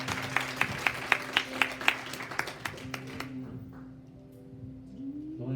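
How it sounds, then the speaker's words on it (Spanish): A church congregation at a Sunday service claps in a steady unison rhythm of roughly a dozen distinct beats. The claps weaken and thin out before stopping, leaving quiet room noise and a low hum. "Démosle un aplauso al Señor."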